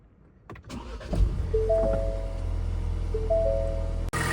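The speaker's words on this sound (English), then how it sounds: "we're ready to start the engine" A Ford Bronco 2.3L EcoBoost engine cranks and catches after an oil change, then settles into a steady low rumble with a faint whine, ending with a sharp click.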